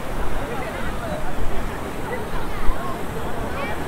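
Sea water surging onto Kapu beach near the lighthouse, a steady loud wash of surf and rushing foam with people talking over it.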